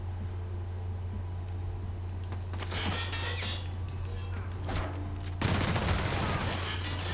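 Light machine gun and assault rifle fire in the video game The Outer Worlds, bursts of rapid shots over a steady low hum, with a louder burst near the end.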